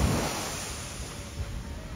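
Ocean waves washing onto a beach at Kapuah Tarusan while a boat waits to land, a steady broadband surf wash with faint wind noise and a small swell near the end, no talk.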